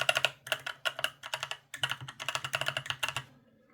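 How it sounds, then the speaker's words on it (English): Rapid, steady keystrokes on an ASUS ROG Falchion RX low-profile mechanical keyboard, each switch clacking close and crisp in quick uneven runs with brief pauses, with no voices. "typing experience is virtually identical"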